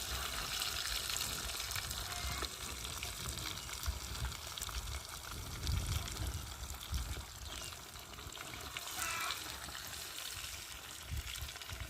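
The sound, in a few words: fish frying in a pan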